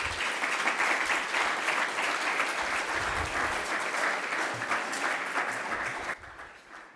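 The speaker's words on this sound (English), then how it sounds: "another round of applause for them" Audience at an awards ceremony honoring hall of fame inductees claps in a full, steady round of applause that fades abruptly near the end.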